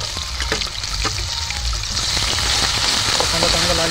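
Cumin, ginger and garlic paste hit hot oil in a pan for a Vidarbha-style village chicken curry, sputtering and crackling loudly, with the sizzle swelling into a dense, steady hiss.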